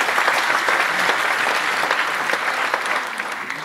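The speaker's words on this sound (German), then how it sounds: "Applaus ist das wert." Dense, steady applause from an audience at an award ceremony, the Goldenes Schlitzohr presentation in 2013, a continuous wash of many hands clapping close by that tapers slightly toward the end.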